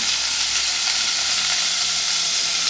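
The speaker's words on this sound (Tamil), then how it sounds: "சின்ன வெங்காயம் ஒரு 100 கிராம் அளவு இருக்கும், அதுவும் ஒரு 2 பூண்டு போட்டு வதக்கிட்டுருக்காங்க." Shallots and garlic sautéing in a pan, an even, loud, close sizzle with a bright steady hiss and no pauses or voices.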